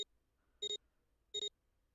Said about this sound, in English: With a soft electronic noise, it authenticated each of them.